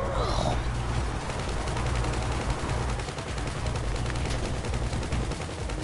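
Rapid video game gunfire rattles in dense bursts, with a steady low hum underneath throughout.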